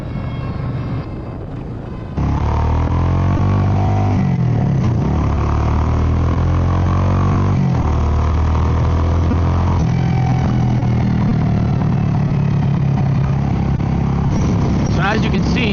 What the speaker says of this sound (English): the exhaust pipes on this bike sound so good